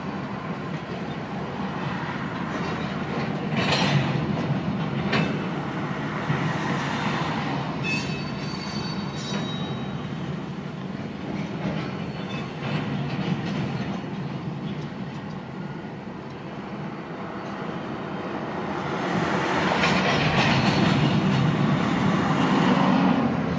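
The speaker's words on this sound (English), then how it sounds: "Well, that's a funky looking boxcar," Freight train boxcars roll past close by, a steady loud rumble with clanking and squealing wheels that swells toward the end.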